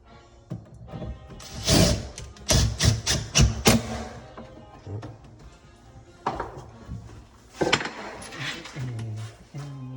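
A screw driven into a wooden filler block for a euro-style cabinet, heard as close knocks, clinks and short rasping bursts of a driver spread across the span, with no voices.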